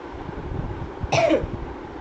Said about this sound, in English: Sorry to cough.